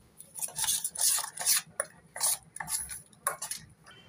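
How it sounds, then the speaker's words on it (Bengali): A spoon scrapes and clinks against a bowl while mung dal, salt and semolina are stirred together, in a run of close, uneven taps and scrapes with brief pauses. "এবার ভালো করে মিক্স করে নেব।"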